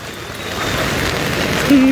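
Heavy rain pours steadily onto a flooded road in Digha, a broad continuous hiss that swells slightly near the end, with no voices over it.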